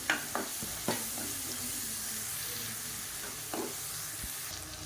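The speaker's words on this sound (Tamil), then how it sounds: "இப்போ இதையும் நல்லா வதக்கிக்கலாம்" Tomato masala sizzles and is stirred in a pan, a steady close frying hiss with a few scraping spoon strokes and light taps, no talk.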